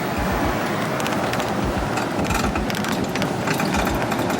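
A golf cart's engine hums and putters continuously up close, with rattling and rumbling from the ride throughout, heading up to Phlio Waterfall in Chanthaburi, Thailand.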